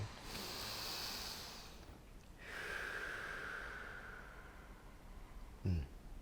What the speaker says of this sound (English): Let's take a breath in, why don't we?